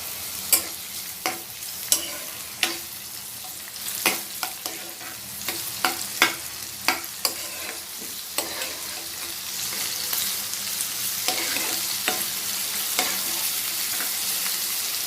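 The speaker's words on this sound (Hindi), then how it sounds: "फिर उसमें डालूंगी ऑनियन एंड चिलीज। इसको मैं अच्छी तरह से हिला लूंगी।" Onions and chilies fry in a pan with a steady sizzle while a spoon stirs them, knocking sharply and repeatedly against the metal at close range with no talk.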